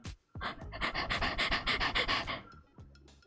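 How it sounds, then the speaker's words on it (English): Heavy, rhythmic panting breaths, close and loud, repeating quickly for about two seconds before trailing off into quieter breathing. "Sorry for the heavy breathing."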